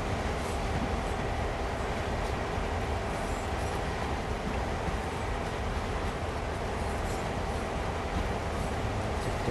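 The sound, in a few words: passing train in Train Sim World, from a video game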